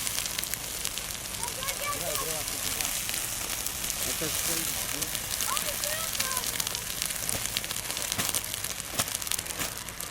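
Grass and brush fire burning close to houses, a steady crackling roar with scattered sharp pops and snaps, loud and continuous throughout, with voices talking faintly underneath.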